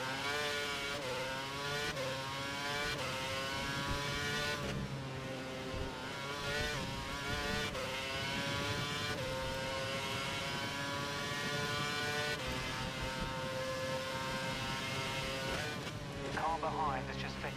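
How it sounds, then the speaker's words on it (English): F1 race car engine from a PC Formula 1 racing game at the China race, held at full revs and maximum power, a sustained high-pitched whine with gear-shift steps, loud and continuous throughout. "He's running full revs, maximum power."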